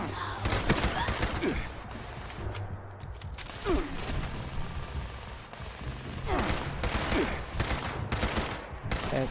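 Automatic turret fire in the video game Fallout 76, rapid bursts of gunshots in repeated volleys over a busy game soundscape, with gasps and a player's voice reacting at times.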